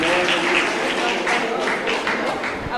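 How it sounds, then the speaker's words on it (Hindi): Applause from a seated audience at a Jain religious discourse session fills the short span, a steady clapping wash throughout without speech over it. "श्रीमती सुनीता अनिल, सभी के सम्मान में तालियां।"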